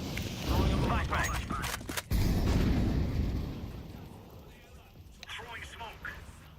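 Flashbang grenade blast in Counter-Strike 2 gameplay, a loud broad burst with a sharp crack near the middle, decaying over a few seconds while game voice lines speak around it.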